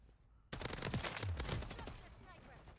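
Gunfire in Call of Duty MW3 bursts in suddenly after a quiet moment: a rapid, loud automatic volley that rattles on for about a second and a half, then tails off into a fading echo.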